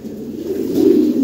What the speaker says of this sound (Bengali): অরিজিনাল ইম্পোর্টেড ফিমেল, ইউরোপ থেকে ইম্পোর্ট করা।